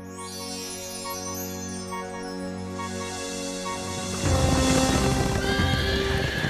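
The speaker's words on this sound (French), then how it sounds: "Salomon possédait des milliers de chevaux." Horses in an animated film about King Solomon: a sustained tonal passage gives way to a louder burst of neighing and busy clip-clopping hooves.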